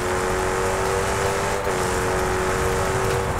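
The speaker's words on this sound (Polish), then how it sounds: "Jedziemy z większą prędkością, mamy większe obroty" Car engine revving hard at high speed in the Test Drive Unlimited demo, a loud, steady, close engine roar with no speech over it.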